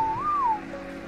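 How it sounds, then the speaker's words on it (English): A single short whistle command sounds in Ark: Survival Evolved, a clear tone that rises, bends and falls away within about half a second, then leaves only faint background. "I'm gonna whistle all these guys on passive too."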